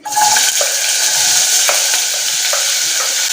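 Finely chopped, meaty bacon fries in a little oil in a pan, giving a loud, close, continuous sizzle with a few clicks of stirring and no voices.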